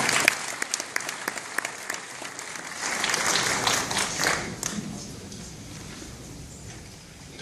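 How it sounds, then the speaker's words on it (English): Audience applause at a ceremony for retired nurses, a sustained burst of clapping from a crowd in a hall that swells then gradually fades away. "Please give them a round of applause."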